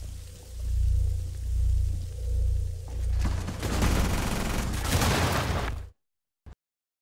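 Gunfire in a video game, sustained bursts of rapid shots rolling in loud waves over several seconds, then cutting abruptly to silence with one short final blip.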